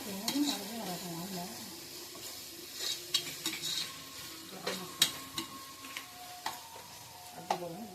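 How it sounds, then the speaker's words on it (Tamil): Garam masala is stirred into vegetable biryani in a pan: a soft sizzle runs under intermittent scraping and clinking of a spoon against the pan, up close. "கரம் மசாலா நமக்கு தேவையான அளவு போட்டு மிக்ஸ் பண்ணி விடுவேன்"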